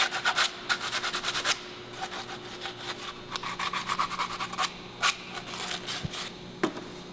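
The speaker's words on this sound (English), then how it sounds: "just to clean up the edges and take the burr out" A file or deburring tool rasps in short, repeated scraping strokes across the cut edge of a metal radiator hose pipe, close and fairly quiet, with uneven pauses between passes.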